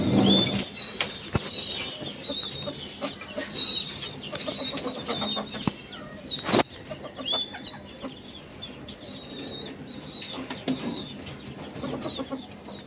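Pigeons in a rooftop loft give repeated rustling wing flaps and soft bird calls, with one sharp, close flapping burst partway through, over constant faint background chirping.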